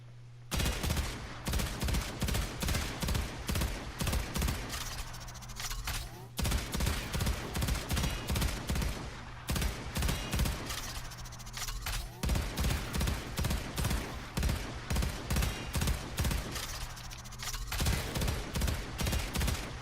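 Cyngas burst fire archgun shooting in the video game Warframe, rapid repeated bursts of gunfire that run almost nonstop with brief pauses, loud and close, with a low steady hum underneath.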